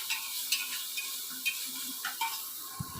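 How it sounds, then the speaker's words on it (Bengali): Chickpea and potato curry with fried onion cooking in a pan: soft sizzling with a few scattered scrapes and clicks of stirring, close by and fairly quiet. "রান্নাঘরে ছোলা ছোলার তরকারি বানাচ্ছি"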